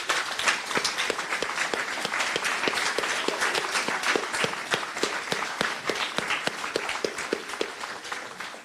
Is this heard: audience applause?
yes